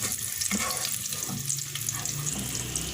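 Nuts for makhandi halwa frying in a pan, a close, continuous sizzle with faint low clatter underneath, nobody talking.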